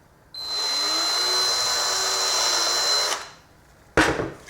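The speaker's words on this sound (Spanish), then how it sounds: "no se puede parar el taladro haciendo fuerza sobre el agujero" A close electric drill runs at steady high speed for about three seconds while boring a hole in a part for an ICP Savannah S aircraft build, winds down, then restarts briefly.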